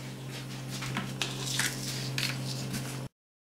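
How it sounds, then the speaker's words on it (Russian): Zebra cake batter whisked in a bowl, a steady close scraping and tapping of the whisk against the bowl with a constant low hum underneath, ending abruptly after about three seconds. "И также начинаем взбивать всю массу."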